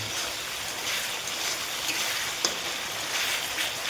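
Masala gravy frying in a pan for fish fry: a constant, close crackling sizzle with soft bubbling, fairly even throughout with one small tap partway.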